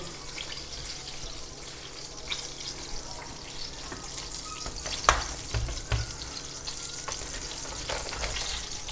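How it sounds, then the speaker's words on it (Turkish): Plenty of butter melts and foams in a hot pan while Ödemiş köfte is being made, giving a continuous close sizzle with scattered small pops and crackles throughout. "Bir Tereyağımız iyice köpüklenene kadar bekliyoruz."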